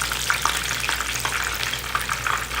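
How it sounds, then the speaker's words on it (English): Plantain slices fry in hot oil in a frying pan, a steady close sizzle with frequent crackling pops and spits throughout, no speech. "So be very careful when you're putting them into your frying pan."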